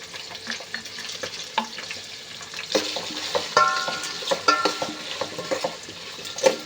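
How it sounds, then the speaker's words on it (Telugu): Cashews fry in a pan with a steady sizzle, while a spoon scrapes and stirs in scattered clinks and knocks, close and fairly loud with no speech. "తర్వాత మనం జీడిపప్పు వేసుకుందాం ఇవి బాగా ఏగి వరకు వేయించేద్దామని చూస్తూ ఉండండి"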